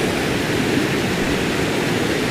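Rushing water of the River Melendez near Cali, a steady broadband wash close by with no pauses, loud and even throughout.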